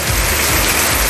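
Heavy rain pours down steadily, driven by strong wind in Tamil Nadu, a dense, loud, continuous hiss and roar of water with no pauses and no voices.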